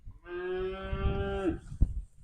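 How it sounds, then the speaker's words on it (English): A calf on a cattle farm gives one long, loud bawl, then a sharp knock sounds; other calves call faintly in the background. "them are mama cows, Okay. and then what we've got hollering in the background are their babies"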